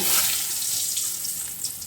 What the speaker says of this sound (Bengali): এবার এখানে তেল গরম বসিয়েছি। আমার এর জন্য লাগছে আলুগুলো আমি ভাজতে দেব।